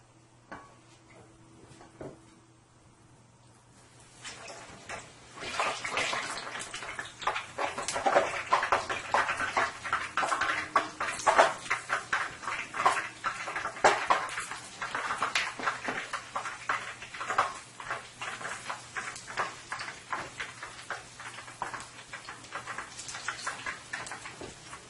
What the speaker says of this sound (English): These are frying up really nicely here.